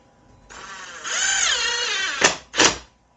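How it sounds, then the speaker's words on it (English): A cordless drill or impact driver driving screws while blinds are installed: a rising whir lasting about two seconds, then two short sharp bursts, close and loud with no talking. "now we can finish it off with our drill here,"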